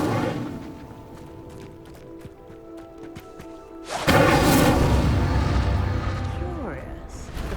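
An Incendio fire spell in Hogwarts Legacy strikes a pyre with a sudden loud whooshing roar of flame that keeps crackling over a background of ambient game music.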